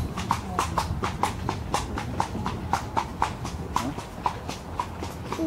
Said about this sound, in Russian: лошадка нас везет